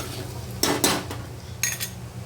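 An onion-garlic masala sautés in oil in a pan for a village chicken curry. Two sharp spatula clanks against the pan ring out over a soft, low sizzle, then another scrape follows.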